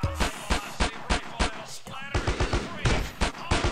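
Rapid video game gunfire, with a steady string of sharp, loud shots in quick automatic bursts and brief gaps, close and dominant throughout.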